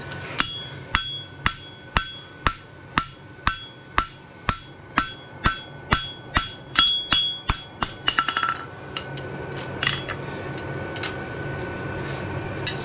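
A hammer rings on the horn of an anvil while a horseshoe (a barshoe) is forged square, a steady series of about twenty sharp, evenly spaced metallic strikes that quicken near the end, followed by softer clinks and scraping.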